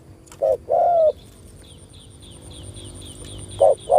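A spotted dove gives a few close, loud coos: a short note, then a longer one, and after a quiet gap another short coo. Faint high bird chirps and quiet outdoor background run beneath.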